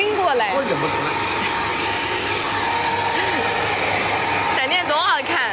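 A hair dryer blows on a freshly bathed tiger cub, a loud, steady rushing whoosh that runs throughout while people talk intermittently nearby.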